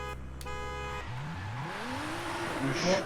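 A six-cylinder car launches hard in Forza Horizon 5, its engine note climbing steadily in pitch as it accelerates through the gears, with a brief tire squeal near the end over a steady background hum.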